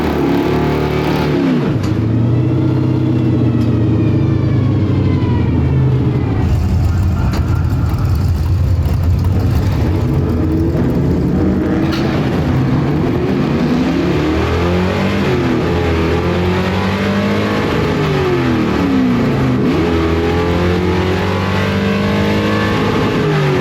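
Gasser drag car at a drag strip, its engine roaring loud and close for the full stretch, revving up and down with gear changes and steady rumbling idle between pulls.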